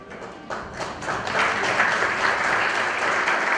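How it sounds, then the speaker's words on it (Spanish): An audience at an academic conference in Arequipa applauds the author and panel, steady broad clapping that swells after a softer start and holds to the end. "vamos a poner un aplauso para la autora y para estos panelistas"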